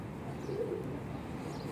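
A racing pigeon, a breeding hen, gives a single soft coo that is faint and brief against a steady low background hum.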